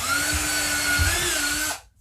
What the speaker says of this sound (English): So the first thing I need to do is just make a little pilot hole.